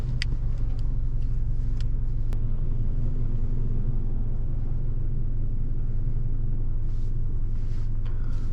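Steady low road rumble and tyre noise fill the cabin of a 2013 Subaru BRZ while driving, a constant dense drone with faint occasional ticks and no voices.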